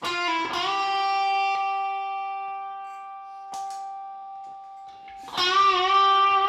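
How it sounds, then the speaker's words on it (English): A sustained tone lingers and slowly decays in a long, smooth tail, struck again near the end, with a few soft clicks in between. "I just made this reverb sound. Check out this algorithm."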